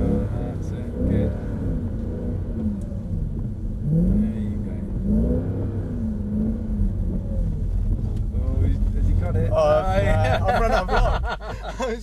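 A Mercedes C63 AMG Black Edition engine revving under power, a steady rumbling drone with rising pitch sweeps and wind buffeting, largely under continuous speech from people in the car.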